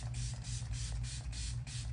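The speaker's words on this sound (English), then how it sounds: "Use this Ready Set Shine spray from P." Several quick bursts of P. Louise Ready Set Shine setting spray come in a steady rhythm, close and fairly loud, over a low background hum.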